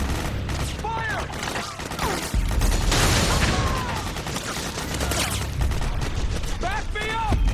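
Gunfire in the video game Metal Gear Solid 4, with loud bursts of rapid shots and booming blasts rolling through a chaotic battle while voices shout over the noise.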